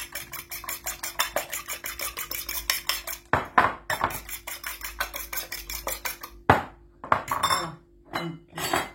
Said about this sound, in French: je viens battre les œufs